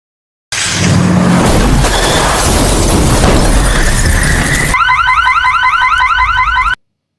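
A car crash in a film scene: a loud impact with crunching and shattering lasting a few seconds, then a car alarm starts wailing in a rapid repeating pattern until it cuts off abruptly.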